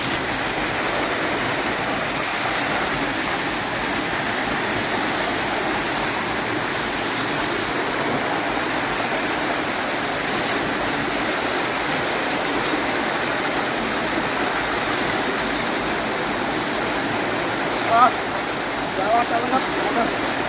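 The Ranajilleda waterfall near Araku, a small dammed cascade in forest, pours with a steady broadband roar that fills the whole stretch, constant and close, with a faint brief sound near the end.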